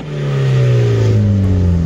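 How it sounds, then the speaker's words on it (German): Renault Megane RS Trophy 2022 with a 1.8-litre four-cylinder, its exhaust revving steadily with a deep, full tone, close and loud throughout with no talk over it. "Am Heck erwartet uns ein gigantischer Heckdiffusor sowie der Auspuff mit sattem Sound."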